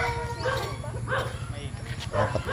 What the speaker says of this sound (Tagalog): Nagkakagulo na yung mga aso.